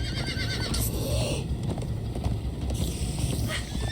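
Horses in the video game Minecraft: Story Mode, a loud whinnying neigh over steady galloping hoofbeats, with a second neigh later in a busy chase scene.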